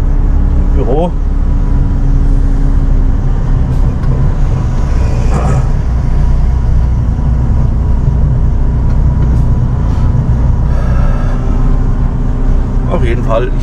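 A four-axle truck's engine drones loudly and steadily from inside the cab while driving, with someone talking over the constant low rumble.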